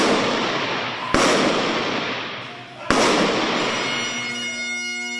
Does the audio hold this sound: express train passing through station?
no